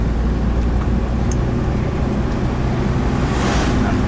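A vehicle engine held in third gear runs smoothly without cutting out after its ignition trouble from a faulty distributor cap was fixed, giving a steady, unbroken low drone with road-like rumble throughout.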